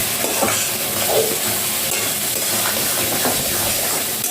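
Spices for chicken curry sizzle and fry in a pan while being stirred, a constant bright hiss broken by scraping stirs, close and steady with no voices.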